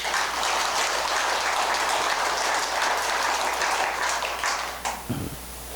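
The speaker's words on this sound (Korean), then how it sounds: "우리 신도님들 위해서 박수 한번 보내주십시오" A Buddhist temple congregation at a Sunday dharma service breaks into sustained, dense applause that fills the hall at close range, then fades out near the end.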